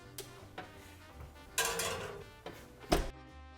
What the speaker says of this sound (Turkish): Harcımızı hafifçe sallayalım.